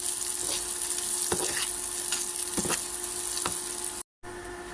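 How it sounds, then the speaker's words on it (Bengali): Chopped onions frying in a pan, a loud steady sizzle with a few sharp stirring scrapes before a brief dropout, no one speaking. "তো এখন পেঁয়াজ কুচি দিয়ে দিচ্ছি এখানে এগুলো একটু নেড়ে সেরে নিবি"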